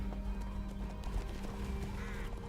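Centaur hooves clip-clop in the Hogwarts Legacy video game, a steady run of hoof steps over a dense bed of game music and ambience, with no one talking.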